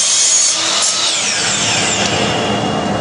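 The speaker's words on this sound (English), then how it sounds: "I bring it to that line there, and I cut the long miter." Wood is sawn with a long miter cut for a handmade pen box, a loud close continuous rasping cut lasting a few seconds, with no voices.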